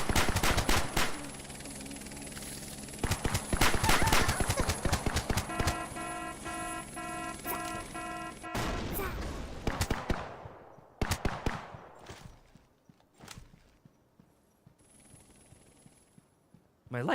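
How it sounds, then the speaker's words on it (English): Rapid bursts of gunfire from shooting police in a big-city free-for-all video game, loud clustered volleys with a steady tonal hum beneath, then sparser scattered shots trailing off. "So I've learned in this game you just shoot the police."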